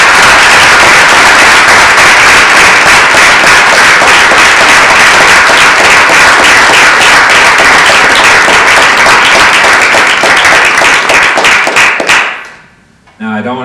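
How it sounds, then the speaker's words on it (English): Loud, sustained applause from an audience at a university panel with Native hip-hop artists, dense clapping that runs steadily for about twelve seconds before cutting off abruptly. "can we give a round of applause for all of"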